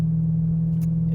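A BMW E92 M3 with a custom MagnaFlow exhaust and test pipes idles with a deep, steady drone, close and loud, a brief higher rev burst near the end.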